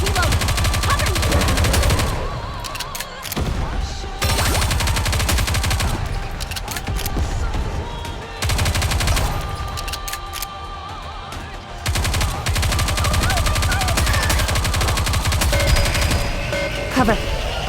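Continuous loud gunfire from Goddess of Victory: Nikke, dense rapid machine-gun bursts with brief pauses, mixed with game voices and music.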